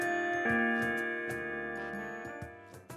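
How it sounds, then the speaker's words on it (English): A school bell chimes in a visual novel video game. Sustained ringing tones sound clearly, with a few soft taps, and slowly fade with no talk over them. "Whew, saved by the bell."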